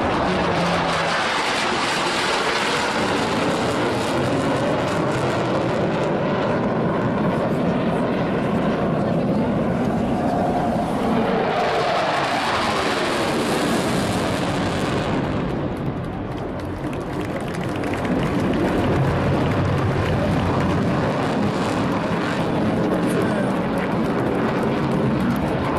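F-16 fighter jet flying slowly at the Jesolo European Air Show 2017, a loud continuous engine roar that swells and shifts in pitch as the aircraft passes, with a commentator talking over it throughout.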